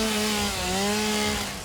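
A chainsaw cuts through wood in a video game, giving a loud, continuous buzzing drone with a steady pitch that dips briefly midway. It is heard up close for under two seconds with no talk.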